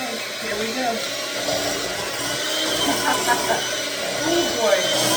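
Kitchen blender mixing cream cheese, a continuous whirring grind at moderate level that runs throughout, with rattling and shifting texture.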